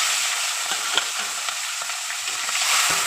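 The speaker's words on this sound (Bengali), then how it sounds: "তেলটা গরম হয়ে গেছে, মাছটা দিয়ে দেবো" Pieces of catla fish fry in hot oil with a steady, loud sizzle and crackle, occasional sharper pops rising from the constant hiss.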